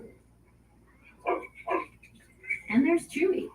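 A newly rescued dog named Dash gives a few short barks and yips at squirrels, several bursts close together with voices around.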